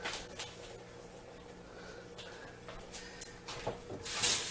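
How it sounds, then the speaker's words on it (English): A hot homemade fishing-bait mixture sizzles after it is poured from a pot onto corn in a home kitchen, a faint steady hiss that swells into a louder burst at the end. "Can you hear that sizzling in there?"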